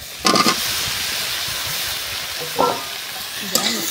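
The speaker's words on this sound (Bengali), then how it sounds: "হালকা লাড়াচাড়া দিয়ে সব দিয়ে আমি একসাথে মিক্স করে নিলাম" Vegetables tossed into a pan of fried spices hiss and sizzle steadily, with three distinct bursts of scraping as everything is stirred together.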